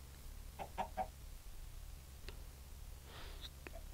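A Minecraft chicken perched in a tree clucks in a quick burst of three short notes, then once more, all faint and distant against a low ambient hum, with no talking.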